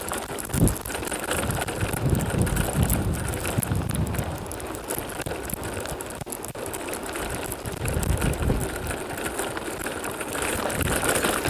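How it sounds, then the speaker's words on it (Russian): Strong wind roars continuously into the microphone of a rider cycling across the windy Kazakh steppe, a steady loud rushing with gusty surges and no voices. "вот ветер не радует"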